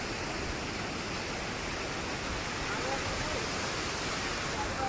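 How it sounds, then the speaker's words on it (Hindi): A waterfall on the Kedarnath trek after a landslide, heard as a loud, steady, broadband rush of falling water close by that fills the whole stretch without pause. "तो भाई झरना सारी थकावट मिटा देता है यार।"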